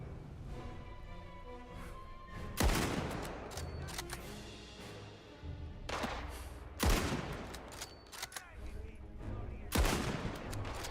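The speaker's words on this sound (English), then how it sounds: "Who is shooting me?" Bursts of gunfire in an Indiana Jones video game, loud sharp volleys striking around 2.7, 7 and 10 seconds over a steady rumble of game noise, with the player shooting back in a courtyard fight.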